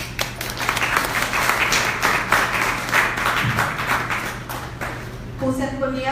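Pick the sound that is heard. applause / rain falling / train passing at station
applause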